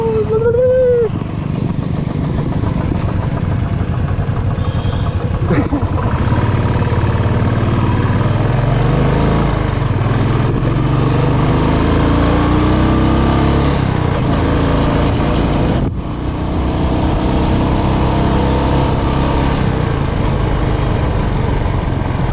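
A Royal Enfield Bullet motorcycle engine runs steadily and loudly at close range, a continuous low thumping rumble with slight rises in revs, while people talk over it.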